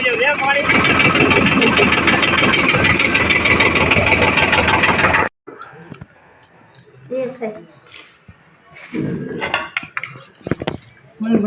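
A farm tractor engine runs loud and close after its tank is filled with water for crop spraying. The steady roar lasts about five seconds, then cuts out and people talk over quieter background sounds.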